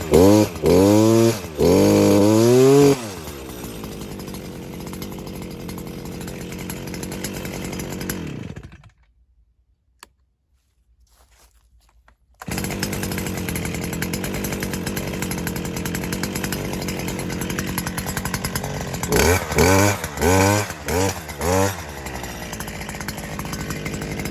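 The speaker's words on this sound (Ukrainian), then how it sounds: "дуже легко і просто заводиться мотокоса на холодно" A petrol Stihl FS 250 brush cutter pulls into life from cold and runs loudly close by, its engine revving and settling into a steady buzz, cutting out briefly before restarting and running on with rising throttle bursts.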